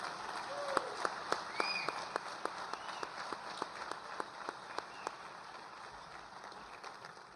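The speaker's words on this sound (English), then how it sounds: "Big round of applause for Coach Chuck Pagano." Scattered, fairly faint applause at a Heroes Foundation gala honouring Coach Chuck Pagano, with distinct sharp claps standing out over a steady crowd murmur throughout.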